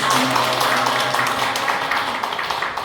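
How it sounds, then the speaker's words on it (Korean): Warm applause from a church family summer retreat audience after a parents' lecture, continuous and fairly loud clapping with a faint voice briefly audible underneath. "좋은 강의 또 귀한 강의 박수로 감사합니다"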